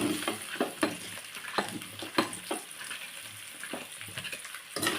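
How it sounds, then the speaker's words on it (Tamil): Boiled, cut taro root (seppankizhangu) being stirred in a pan with chilli, turmeric and coriander powder, a quiet sizzle punctuated by frequent scraping and tapping strokes of the spatula. "ஆட் பண்ணிவிட்டு நல்லா இது மாதிரி வந்து கிளறி விட்டுக்கலாம்"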